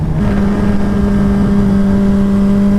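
A turbocharged Suzuki Hayabusa motorcycle accelerates hard in first gear, its engine holding a loud, steady, rising drone with a strong low hum throughout, close by and without talk.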